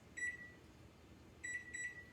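Kitchen oven timer being set while baking at 450 degrees: one short electronic beep, a pause, then two more quick beeps, thin and moderately quiet in a hushed room.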